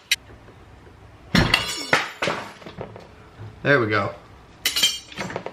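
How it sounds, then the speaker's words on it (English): Sharp metallic clinks and knocks from a fan clutch tool working a fan clutch loose on a 1982 BMW 633CSi E24, coming in short irregular bursts close by, with someone speaking briefly. "let's put our new fan clutch tool to use here, I guess, and get this fan clutch off"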